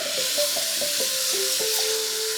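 Rinsed rice stirred around inside a VEVOR Dutch oven, giving soft repeated scraping and light sizzling strokes at a steady pace, close and fairly quiet against a hiss of background noise.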